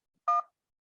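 A single short telephone keypad tone is pressed to confirm an appointment booking, sounding as a clean, steady beep of about a fifth of a second against silence.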